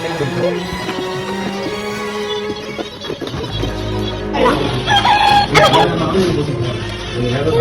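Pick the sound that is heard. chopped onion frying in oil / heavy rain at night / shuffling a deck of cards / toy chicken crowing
toy chicken crowing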